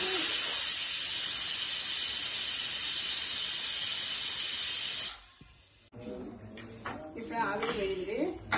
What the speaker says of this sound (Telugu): ఇప్పుడు ఆవిరి వేయింది.